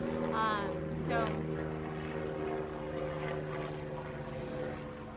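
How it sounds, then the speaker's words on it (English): Helicopter passing overhead at a distance, a steady low droning rotor and engine rumble filling the whole stretch, with a brief higher sweep near the start, fairly faint. "There's another helicopter flying over."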